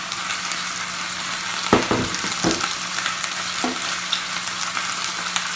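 Lamb in marinade frying and being stirred in a pan, a steady sizzle with a few sharp scraping clatters of the utensil against the pan.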